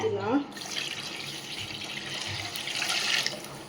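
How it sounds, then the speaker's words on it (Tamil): Water pours into a pan for Maggi noodles in a steady close stream, briefly preceded by a voice, growing slightly louder toward the end. "இன்னொரு செம்பு அளவு தண்ணி ஊற்றிக்கலாம்"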